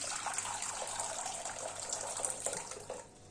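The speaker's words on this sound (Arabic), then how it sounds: "هنحط بقى الميه هنا اهي" Tap water gushing steadily into a container for cucumber pickles, a continuous close splashing pour with no talk over it.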